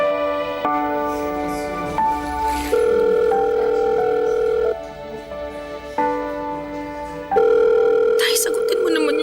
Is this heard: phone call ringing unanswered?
yes